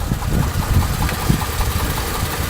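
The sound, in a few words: van engine idling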